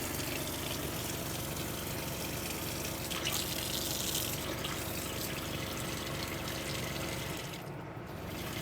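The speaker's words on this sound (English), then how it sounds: "That pump sounds really loud." A camper van's fresh-water pump runs loudly and steadily while water flows from a tap, a continuous broadband rush with a low vibrating hum underneath, holding level throughout before dipping briefly near the end.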